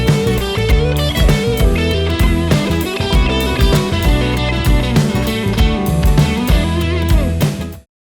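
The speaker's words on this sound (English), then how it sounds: "Here's the sound of the first 4 bars of the guitar solo with the room mic." A distorted electric guitar solo plays over a full rock backing, captured through an amp close mic blended with a room mic, loud and dense for about eight seconds before cutting off.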